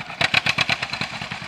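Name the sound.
John Deere B tractor cutting hay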